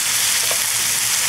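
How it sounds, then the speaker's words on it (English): Artichokes, shallots and sausage sauté in a pan, a loud, dense and unbroken sizzle heard up close with no voices. "now we've sauteed our artichokes and shallots and starting to get some nice color here on the sausage"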